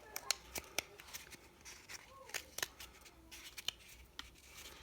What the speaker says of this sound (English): you can cut these into flower petals